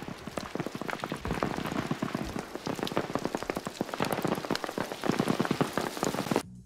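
Steady rain pattering densely on a surface, close and fairly loud, a continuous hiss of drops throughout before cutting off abruptly at the end.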